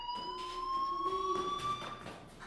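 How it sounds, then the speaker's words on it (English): A steady electronic fire alarm tone rings inside a school building in the Life is Strange video game, a sustained, piercing pitched whine that holds for a couple of seconds at moderate loudness with no one talking. "do you hear that fire alarm?"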